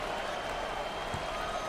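Arena crowd applauding the Michigan State basketball team after its NCAA tournament round-of-32 win over New Mexico, a steady, dense wash of clapping held at an even level throughout with no voices standing out.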